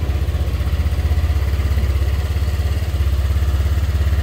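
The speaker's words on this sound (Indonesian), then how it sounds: "Coba kita nyalakan sepeda motornya." A 2015 Honda Vario 125 scooter engine runs at a steady, close and loud idle, its rapid, even chugging continuing throughout with no speech.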